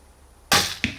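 An arrow is loosed from a recurve takedown bow outdoors, a sharp loud snap and whoosh followed a moment later by a second crisp impact.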